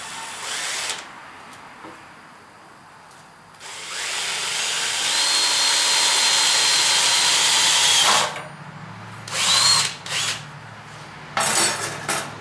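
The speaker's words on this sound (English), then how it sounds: "Drill a hole in these first." A Milwaukee power drill bores a hole for a homemade flue pipe rain cap, whining loudly in several bursts: a short start, a long sustained run of about four seconds, then a few shorter pulses as the bit works through.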